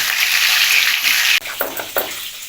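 Beaten eggs stirred in a frying pan with chopped onion, tomato and chilli, a loud steady sizzle that drops abruptly, followed by a few scraping stirs over a quieter crackle.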